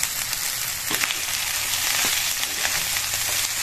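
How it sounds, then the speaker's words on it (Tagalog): Rice for sinangag frying in a pan with sautéed ingredients, giving a steady close sizzle with a few soft stirring scrapes and no talking. "pag ito nagisa na natin itong ating ingredients, pwede natin ilagay yung ating sinangag"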